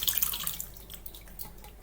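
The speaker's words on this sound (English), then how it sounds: "just pour it through your cheesecloth into a bowl" Liquid cannabis-infused coconut oil with plant material poured through cheesecloth into a bowl, a faint trickling and dripping with soft splashes, close and steady for under two seconds, no talking.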